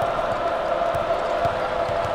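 Crowd noise from a college basketball arena during a Niagara at Syracuse game: a steady, dense roar with a sustained tonal hum and faint thumps, like ball bounces, underneath.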